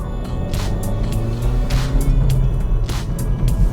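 Hyundai i30 N Line car driving on a road, its engine and tyre rumble steady and close throughout, with faint hiss of air and road noise over the low drone.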